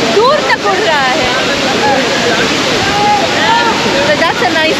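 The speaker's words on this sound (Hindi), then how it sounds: "I can't go that close to the waterfall." Devkund waterfall spray whipped by strong wind makes a loud, continuous roar of rushing water and gusting air, blasting close against the microphone.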